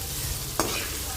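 Bitter gourd pieces fry and are stirred in a pan of hot oil, giving a soft, even sizzle with a single brief scrape of the spoon partway through.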